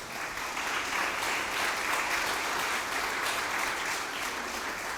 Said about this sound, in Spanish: Denle un fuerte aplauso a nuestro Señor.